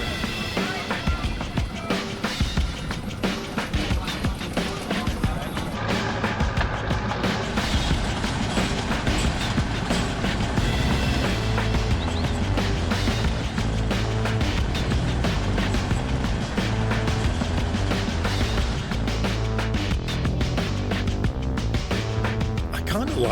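A train rolling on rails through the Australian savannah makes a dense, continuous rattle and rumble, steady and loud throughout.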